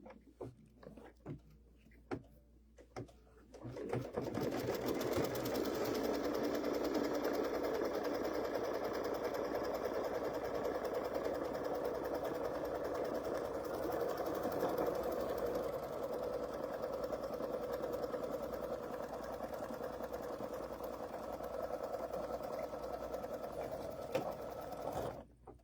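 Embroidery machine stitching an in-the-hoop Chucky pumpkin potholder, running in a steady, fast mechanical whir for over twenty seconds after a few light clicks, close and even throughout.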